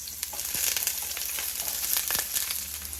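Onions frying in a pot of hot oil as the base for curry goat, a steady close sizzle with scattered crackles and pops running throughout, no voices present.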